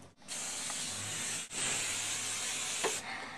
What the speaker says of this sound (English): It's just a regular hairspray